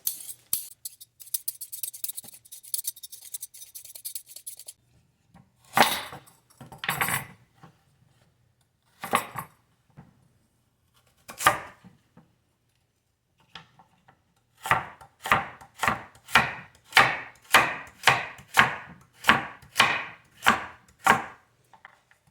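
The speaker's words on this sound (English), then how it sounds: "We're just going to get a couple carrots here peeled and chopped up." Carrots are peeled with rapid scraping strokes, then after a pause are chopped on a board, a regular series of about a dozen crisp knife knocks, each close and distinct with no talking.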